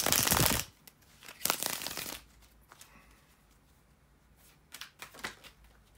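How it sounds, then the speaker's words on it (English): Tarot cards being shuffled, with a few crisp riffling bursts, the first two loudest, followed by softer scattered card flicks close by. "bear with me a second, guys, to shuffle the cards"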